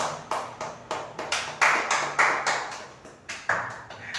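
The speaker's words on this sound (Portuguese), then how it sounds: "as palmas vão para o Senhor Jesus" A church congregation claps in a steady, rhythmic beat, each sharp clap ringing briefly in the room, roughly two per second, close and moderately loud.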